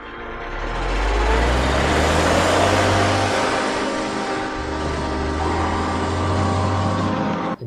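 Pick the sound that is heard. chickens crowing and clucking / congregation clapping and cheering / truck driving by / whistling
truck driving by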